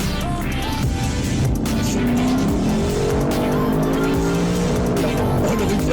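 A Mercedes-AMG GT63S four-door with 639 horsepower roars under hard acceleration while its tires squeal continuously, a loud, sustained engine drone with rising pitch sweeps and no pauses.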